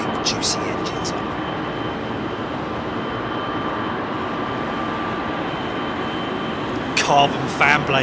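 A steady, loud jet engine roar rises from an airliner departing runway 27R at London Heathrow, with a brief bird-like chirp near the end.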